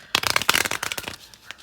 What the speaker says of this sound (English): I'm going to go ahead and shuffle these cards